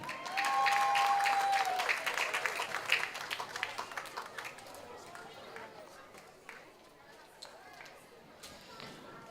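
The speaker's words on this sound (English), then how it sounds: "Clap them one more time." Audience at a Jamaican traditional drum festival performing-arts final applauding, a dense burst of clapping that gradually thins and fades, with an announcer's voice and crowd chatter over it.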